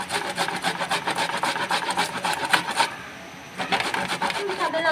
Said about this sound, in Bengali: আদাগুলো কষিয়ে নিব, ভালো করে একটু গ্রেট করে নিব।